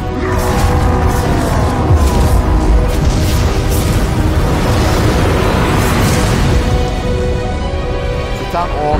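A massive explosion and crumbling collapse in the final cutscene of the fighting game Shadow Fight 2, heard as a loud, sustained rumbling roar with layered crashing debris and a deep low boom throughout.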